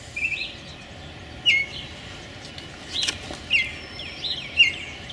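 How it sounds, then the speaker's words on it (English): Short bird chirps repeat every second or so against a steady outdoor hiss, bright and moderately close, with no voices. "What bird is that?"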